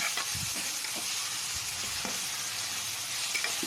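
Crushed whole garlic cloves sautéing in a hot pan with salt, a steady dense sizzle and frying hiss with faint stirring scrapes, close and continuous throughout, no voices.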